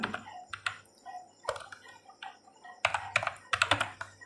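Someone types on a computer keyboard while filling in an online application form, producing bursts of close, sharp key clicks with short pauses between them.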